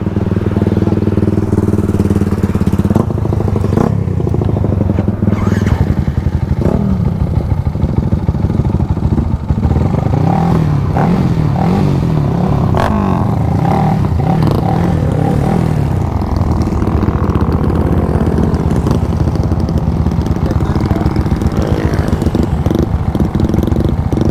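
A loaded Suzuki Raider FI motorcycle engine idles loudly up close, then revs repeatedly in rising and falling bursts with mechanical clatter throughout.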